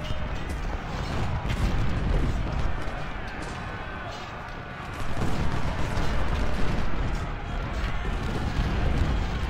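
Cannon and artillery fire from Ultimate General: Civil War during the Hall's Ferry Road battle keeps up a dense, continuous low rumble of booms and thuds, with a voice talking over it.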